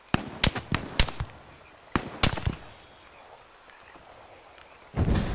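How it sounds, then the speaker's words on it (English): Sharp gunshots from the World War II video game Hell Let Loose, a quick volley of five or six cracks, then two more a second later and a final burst near the end, fairly close with quiet gaps between. "They're shooting at me."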